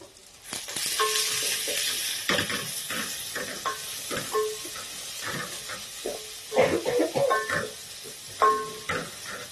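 Onions hiss and sizzle in a pan with ginger garlic, broken by repeated clattering stirs and scrapes of a utensil against the pan, close and busy, with no talk.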